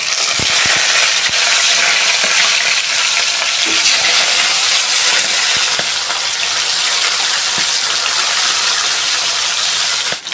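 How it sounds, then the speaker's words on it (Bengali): Rohu fish pieces frying in white oil, with a loud, steady, close sizzle and spatter throughout and occasional crackles. "মাছগুলো এক এক করে আমি তেলের মধ্যে দিয়ে দেবো"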